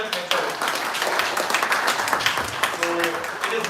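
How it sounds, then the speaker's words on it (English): An audience at a freshers' internal moot court competition claps for the participants in dense, sustained applause that fills the whole stretch, with a voice briefly audible near the end. "I think everyone deserves a huge round of applause"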